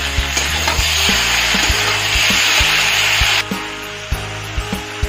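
Potato and cauliflower fry in a pan with ginger-chili paste and chopped and pasted tomato, giving a steady close sizzle with regular scraping stirs and soft knocks. The hiss drops partway through while the stirring continues.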